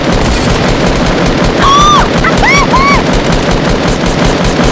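Rapid automatic gunfire from a Fortnite Battle Royale match, a dense continuous rattle of shots filling the whole clip, with a few brief whistling tones cutting through midway.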